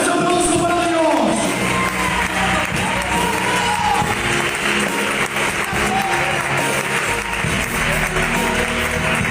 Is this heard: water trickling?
no